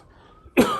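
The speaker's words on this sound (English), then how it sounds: "I'm going to cough." A single sharp, close cough bursts out loudly after a quiet pause and trails off briefly.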